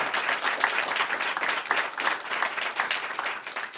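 Audience applause in a radio station studio following a live in-studio music session, a steady, dense wash of clapping that holds close and fairly loud from start to finish.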